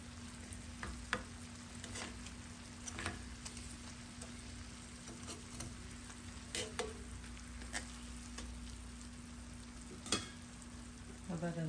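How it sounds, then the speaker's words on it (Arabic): Meat frying and browning in a Moroccan tagine, with green beans in the dish, gives a steady soft sizzle and crackle and a few sharper pops and stirring clicks, with no talking. "نخليه يتحمر من الجهة الأولى ومن بعد نقلبها للجهة الثانية"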